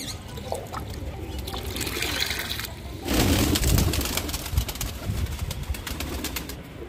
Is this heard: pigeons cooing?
yes